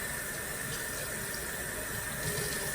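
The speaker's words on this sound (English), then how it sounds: "rinse it off first with water." Cold tap water runs steadily over a raw chicken breast in a kitchen sink, a continuous even splashing hiss from start to finish with no voices.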